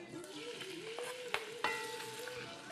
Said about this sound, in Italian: L'aglio è pronto, metto il pesce spada